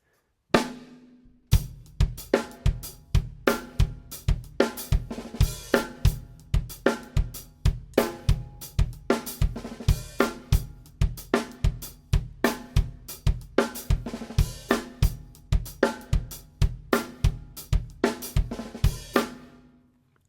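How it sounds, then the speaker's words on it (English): Drum kit plays a steady groove for about twenty seconds: crisp repeating kick and snare hits, an open hi-hat wash, and a quick snare roll before it, close and loud with no talking. "It'd be the 13th one is an open hi-hat. And the 8th note preceding that is a little roll on the snare drum"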